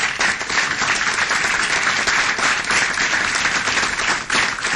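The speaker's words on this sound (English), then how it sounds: "Let's give them a big round of applause." A city council audience gives volunteers a full round of applause, dense, loud clapping held steadily for several seconds with little else beneath it.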